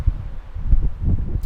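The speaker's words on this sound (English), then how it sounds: "It is surprisingly windy and quite cold" A strong, cold wind gusts at a remote alpine lake, making loud, rough low buffeting that rises and falls in short bursts as it batters the microphone.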